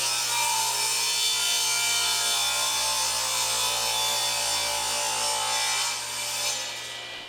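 A Delta 36-725T2 table saw rips through wood stock, a loud, sustained whining cut with a dense buzzing roar that holds steady for several seconds before easing off as the blade exits the wood.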